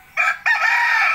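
A backyard rooster lets out one loud, close crow, a brief first note followed by a sustained strained call.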